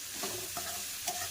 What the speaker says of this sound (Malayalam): ഉള്ളി ഒന്ന് വഴന്നു വേണം